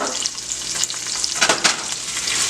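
Whole onions and garlic sizzle steadily in already hot oil in a pan, a dense close crackle with a few louder spits, continuous and alone for the whole span.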